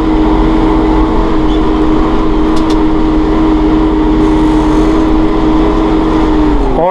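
Massey Ferguson 4610M utility tractor engine holding a loud, steady drone close by, rising in pitch toward the end as it revs up to PTO speed.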